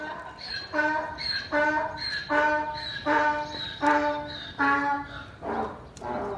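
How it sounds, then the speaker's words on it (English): A donkey brays repeatedly, loud harsh see-sawing honks rising and falling in a steady rhythm, fairly close with no talking. "that sound you can hear is a donkey"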